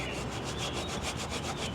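A cloth or rag rubs rust remover off a metal part of a Toro snowblower, giving steady rhythmic back-and-forth scrubbing strokes, close and fairly loud, with no talking.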